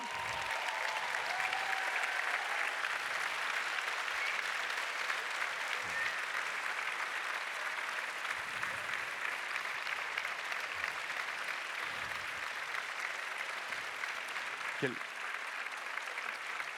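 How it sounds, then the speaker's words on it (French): Families at a business school graduation ceremony give the graduates a standing ovation, a dense, continuous roar of applause from a large hall crowd, steady and full throughout with a few faint voices mixed in. "Quelle belle ovation"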